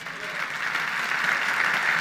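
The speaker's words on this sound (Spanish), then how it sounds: "Un aplauso al Rey de Reyes." A church congregation claps together in steady, continuous applause that swells slightly over two seconds, a dense wash of hands heard at moderate distance.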